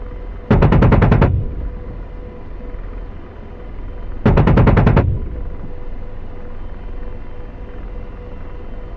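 Two short, loud bursts of rapid aircraft cannon fire in the flight simulator DCS, each lasting under a second and a few seconds apart, over a steady low cockpit hum.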